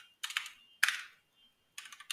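A file name being typed on a computer keyboard: three quick, close bursts of crisp keystrokes separated by short pauses, with no voices.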